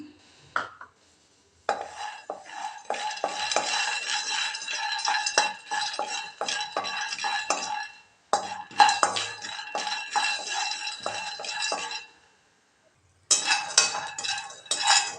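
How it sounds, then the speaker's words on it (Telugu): Peanuts are dry roasted in a pan on the stove, rattling and clinking against the metal in quick scraping bursts, close and fairly loud, broken by short silences. "స్టవ్ పైన ప్యాన్ పెట్టుకొని ఒక 2 స్పూన్స్ పల్లీలు వేయించుకుందాం."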